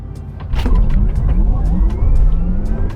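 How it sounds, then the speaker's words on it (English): A Porsche Taycan Turbo S electric sedan launches under launch control, a loud close rising electric whine climbing steadily in pitch over a rumbling low roar, with brief voices in the cabin. "foot on the brake, and show you guys. I'm gonna do a launch control."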